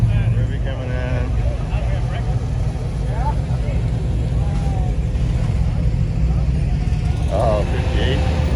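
A 1958 Chevrolet Bel Air rolls in at an outdoor hot rod picnic, its low engine rumble steady and close throughout, with people chatting over it.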